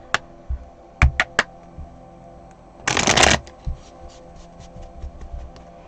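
Tarot cards being shuffled by hand up close: a few sharp taps and flicks, then a quick dense riffle burst, followed by lighter scattered card clicks.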